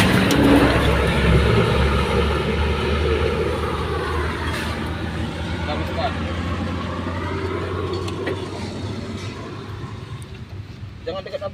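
An Isuzu truck failing to climb a steep hill, its engine droning and revving in a loud, rising and falling roar, with people talking and wind buffeting nearby.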